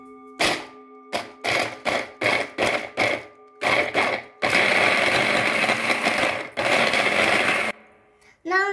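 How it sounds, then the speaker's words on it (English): A blender whirs through frozen fruit for a homemade sugar-free, milk-free ice cream alternative, starting with a string of short pulsed bursts, then a long continuous loud grinding run that cuts off near the end. "Put the frozen fruit in the mixer, in the blender."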